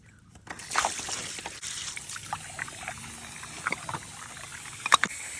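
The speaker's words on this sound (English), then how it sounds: "You'll hear it hiss, and then the water starts to come out." Water gushes and trickles out of a pool filter cartridge housing after its small top cap is loosened, a steady close pouring flow with a few sharper splashes and drips.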